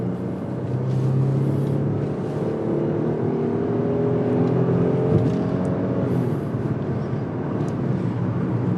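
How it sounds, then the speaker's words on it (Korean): A Genesis EQ900 pulls away and accelerates from inside the cabin, its engine note rising smoothly as a steady, moderately loud hum with climbing tones over a constant road and wind wash. "엔진 사운드 좋아"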